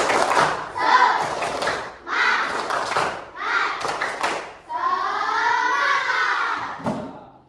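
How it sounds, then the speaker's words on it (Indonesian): Group of teacher trainees doing Indonesian rhythmic spirit clapping, several sharp bursts of claps in time with chanted voices, then a longer drawn-out shout before a final clap. "Coba tepuk semangat."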